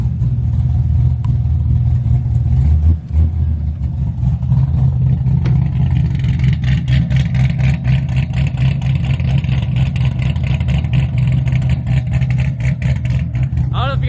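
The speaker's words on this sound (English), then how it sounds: "I'm gonna blip the throttle real quick," A C6 Corvette engine runs loud and close with a steady low rumble, broken by a quick throttle blip around three seconds in, then settles back into a choppy idle.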